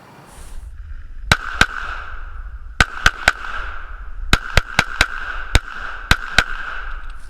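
Sharp, loud gunshots from an M&P 9c 9mm pistol firing 9mm Parabellum rounds, about fourteen reports in irregular pairs and quick strings over a low background hum.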